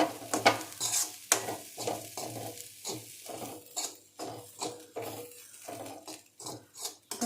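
Egg fruit thoran being stirred in a pan: rhythmic scrapes and clinks of a spoon against the pan, close and clear, with a faint sizzle between strokes.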